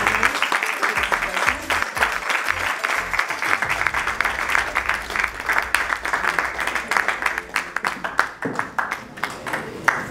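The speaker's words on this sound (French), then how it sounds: "on applaudit très fort parce que c'est énorme" An audience applauds a prize winner at an award ceremony, dense crisp clapping running throughout with occasional louder individual claps and faint crowd murmur beneath.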